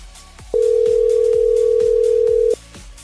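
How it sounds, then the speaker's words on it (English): An outgoing phone call rings with a single sustained tone lasting about two seconds, loud and close, set against faint rhythmic tapping in the background. "so I'm going to make a quick phone call"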